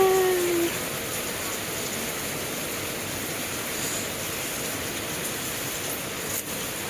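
Steady rain falls in a rural Philippine setting during the rainy season, a continuous even hiss with no breaks, no talk over it.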